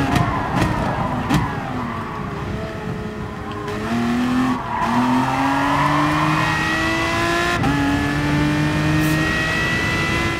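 Aston Martin Group 3 race car in Gran Turismo Sport, its engine note climbing steadily through the gears with sharp shifts between pulls, loud and close, with brief tyre squeal near the start.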